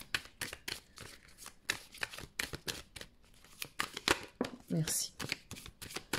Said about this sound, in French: Je vais prendre tout de suite une autre carte.